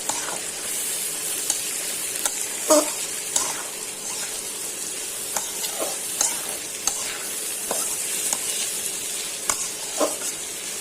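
Onions fry on low heat for an egg curry, a continuous close sizzle with repeated spatula scrapes and taps against the pan at irregular intervals, and no voices.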